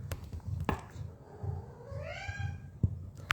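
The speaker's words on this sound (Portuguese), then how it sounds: "Então vocês vão ouvir o barulhinho de gato, de cachorro." A cat at home purrs in soft, rhythmic pulses and gives one rising meow midway, all quiet and close, with a few light taps.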